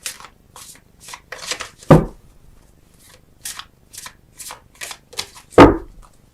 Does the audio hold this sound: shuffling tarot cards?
yes